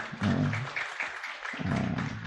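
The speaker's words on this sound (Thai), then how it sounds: "หัดปรบมือดังๆให้กับละอ่อนตึงทั้งหมดเลยเนาะ" Applause for a group of children at a municipal morality and ethics event during the Buddhist Lent season: a short burst of clapping from the crowd, steady for about two seconds with a brief dip in the middle.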